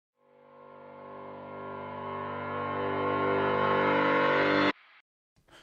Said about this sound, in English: so it does have a reverse piano on there